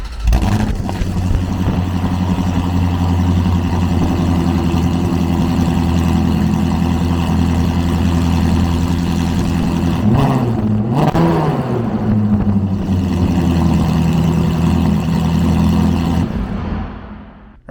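A Ferrari F430 Challenge race car idles loud and close with a steady, deep rumble, a brief throttle blip near the end before the sound cuts off.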